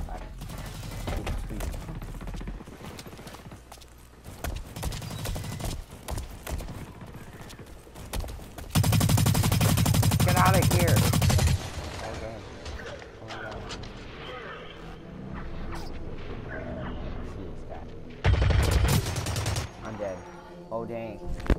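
Rapid bursts of gunfire from the video game Blacklight: Retribution, loud and dense in several stretches, with quieter gaps of game noise between volleys.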